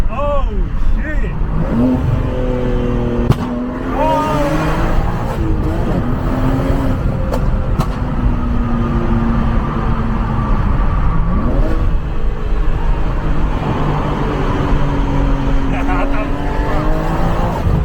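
750HP BMW M3 G80 with a full carbon kit revving hard, the engine note rising and falling repeatedly with loud exhaust roar and crackles, while people talk excitedly over it.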